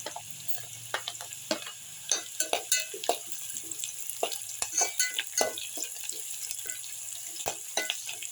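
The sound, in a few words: garlic and onion frying in oil for shevga curry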